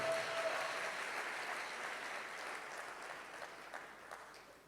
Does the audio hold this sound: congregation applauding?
yes